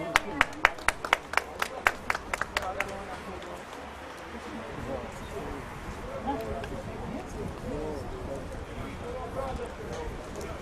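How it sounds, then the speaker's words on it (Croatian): Crowd applause at a Zagreb racecourse greets the winning Irish mare of a trial stakes race: a run of sharp, distinct claps at the start that thins out, followed by steady outdoor crowd murmur. "Molim vas jedan veliki aplauz za pobjednicu ove utrke"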